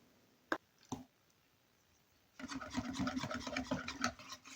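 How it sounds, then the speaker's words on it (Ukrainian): A couple of isolated knocks, then a quiet pause, followed by a steady rhythmic scraping and swishing as a utensil stirs thin Moroccan pancake batter in a bowl, close up. "Розмішуємо так, щоб не було грудочок."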